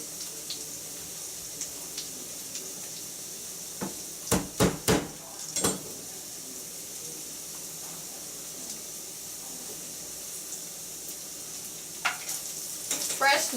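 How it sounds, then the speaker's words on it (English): Potatoes fry in a pan with a steady soft sizzle, broken by a few sharp clatters of a utensil against the pan around the middle and near the end. "So we're going to keep cooking these potatoes."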